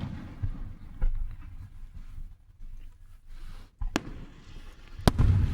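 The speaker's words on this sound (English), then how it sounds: "I love fireworks." Fireworks going off at a display, with a rumbling run of distant booms and two sharp, loud cracks near the end.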